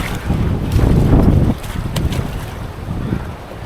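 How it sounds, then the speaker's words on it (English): A boat runs down white-water river rapids, with steady loud rushing water and wind buffeting the microphone, heavy and close throughout. "Now we're going down some rapids."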